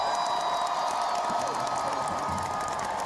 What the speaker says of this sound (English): we're going to have to hear a loud applause